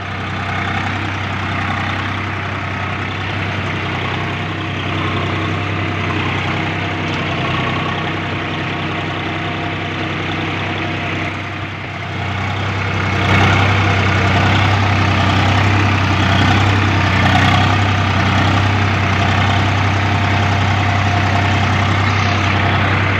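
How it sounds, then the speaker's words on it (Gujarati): A Swaraj tractor engine running in a field during peanut sowing, a steady low idling drone heard close and loud, rising slightly in intensity partway through, with no talking. "મગફળી પહેરવા માટે ટ્રેક્ટર ફરી રહ્યું છે."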